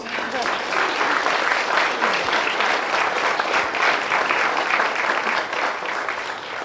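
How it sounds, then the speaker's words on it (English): Wedding guests applaud warmly, a steady, dense clapping that holds at the same level throughout, close and lively. "Can we give that a round of applause?"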